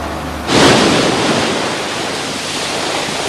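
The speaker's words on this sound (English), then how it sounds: "The force of the waves shakes the houses behind." Sea waves breaking on the Holderness coast at Withernsea against worn-out old sea defences, a sudden loud crash followed by a sustained roaring hiss of surf and spray that slowly eases, with wind buffeting the microphone.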